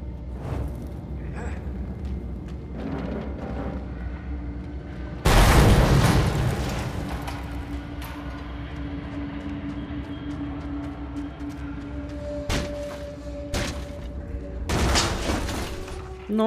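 Loud explosions and bursts of gunfire in the Mad Max video game, with a big blast near the middle and more booms toward the end, mixed with engine and action noise from the game.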